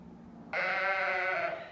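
A single sheep lets out one loud, wavering bleat nearby after a brief quiet moment.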